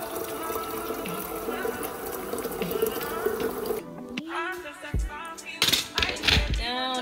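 Tap water pouring into a container, a steady gushing stream that gives way to splashing and sloshing as it fills, close by, with brief voice sounds over it.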